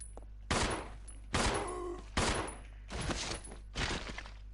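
Five heavy gunshots fired at zombies in Resident Evil Zero, loud and spaced roughly a second apart, each with a short ringing tail over a low steady hum.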